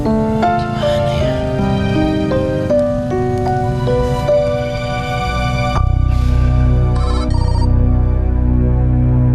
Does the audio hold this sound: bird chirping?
no